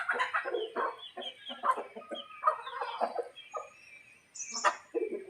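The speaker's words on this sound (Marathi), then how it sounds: "म्हणजे मोठ्या कोंबड्या आहेत आपल्या, तर तिकडे पिल्लांना घेऊन खात आहेत।" Free-range village hens cluck busily while feeding alongside their chicks, a close, continuous stream of soft clucks and murmurs with a few higher chirps mixed in.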